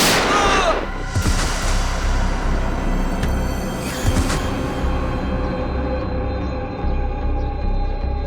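Gunshot in a tense night scene of a CID horror TV episode, a loud bang near the start followed by a booming, dramatic soundtrack-like rumble that carries on to the end.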